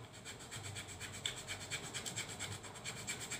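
Rhythmic rasping strokes of sandpaper rubbing across wood, steady back-and-forth scratching at an even pace, close and fairly quiet, with no voices.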